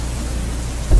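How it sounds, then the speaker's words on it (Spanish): Steady rain pours down, and a deep roll of thunder rises near the end of the short stretch. "mientras la lluvia chorrea por los cristales"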